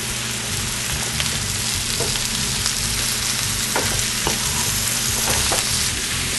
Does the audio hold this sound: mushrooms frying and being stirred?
yes